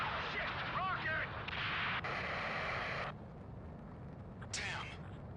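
A rocket blast in the Ace Combat flight game: a loud roaring burst that cuts off sharply after a few seconds, then a quieter rumble and a brief whooshing hit, with a voice speaking underneath.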